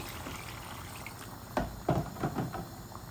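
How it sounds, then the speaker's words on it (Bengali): Water being poured into a pan of braised rui fish, a few soft splashing bursts over a low kitchen background, close and fairly quiet, with no talk. "এখন আমি জল দিব আমার পরিমাণ মতো।"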